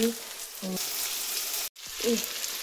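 Chopped onion frying with ground cumin and garlic while being stirred, a soft continuous sizzle broken by a brief clatter and a cut to silence, with faint tonal kitchen sounds.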